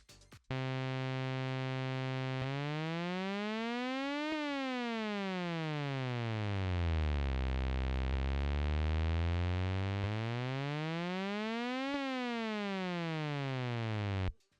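A synthesizer plays sustained, buzzy notes that glide smoothly up and down in pitch from one note to the next, a steady slow portamento sweep running continuously for the whole stretch with no pauses.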